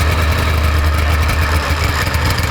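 A 440cc two-stroke go-kart engine runs loud and close, giving a continuous rough, buzzing drone with a heavy low rumble that holds steady for the whole short stretch.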